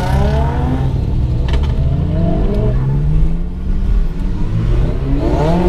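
Several JDM cars roll out together in a convoy at sunrise, engines droning and revving steadily, close and loud, with no talking.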